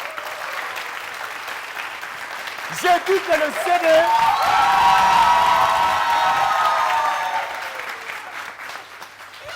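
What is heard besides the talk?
audience applause and cheering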